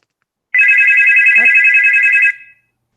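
An incoming caller's telephone ringtone sounds once, loud and close: a bright warbling electronic trill lasting nearly two seconds, then cutting off into silence.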